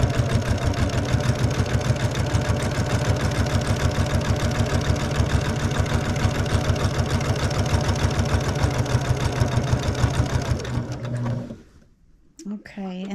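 A sewing machine quilting a pinwheel quilt hums in a fast, even, continuous run for about eleven seconds, close and loud, then winds down and stops.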